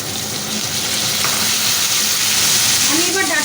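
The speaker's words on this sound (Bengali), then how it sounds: "আমি এবার ডাঁটাগুলো আলু কাঁচকলার সঙ্গে 1-2 মিনিট নাড়াচাড়া করে ভেজে নেব।" Drumstick stems fry in a pan with potato and raw banana pieces, a loud continuous sizzle with stirring scrapes, close up, while a voice talks over it.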